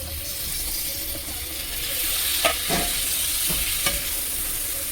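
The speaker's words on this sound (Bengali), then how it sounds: "আদা, রসুন, পেঁয়াজ ভালো ভাজা হয়ে গেছে।" Onion, ginger and garlic sizzle steadily in a hot pan, with occasional scraping stirs and light clinks over the constant frying hiss.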